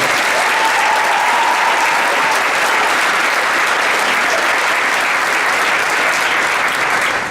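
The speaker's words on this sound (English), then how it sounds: "How about a nice round of applause for our marching band?" A large audience applauds a high school marching band, the Berea-Midpark Titans, with dense, loud, steady clapping that fills the whole stretch without a break.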